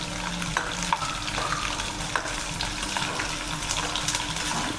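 Nylon sabudana (sago pearls) frying in hot oil while being made into a crispy sweet potato chivda for fasting, giving a steady, dense sizzle and bubbling with occasional stirring clinks, close and continuous with no talking.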